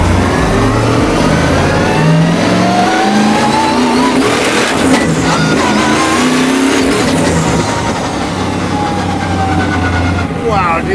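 A 1,200 hp twin-turbo V8 in a wide-body BMW E30 with a sequential gearbox revs hard and accelerates, its loud engine roar rising and falling in pitch through gear changes for the whole stretch, while voices talk over it.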